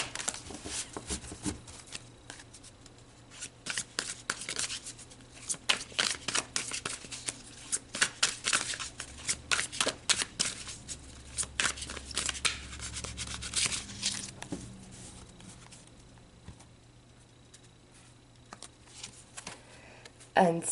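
Tarot cards being shuffled close up, a long run of quick crisp riffling and slapping bursts that thin out toward the end, with a voice speaking at moments.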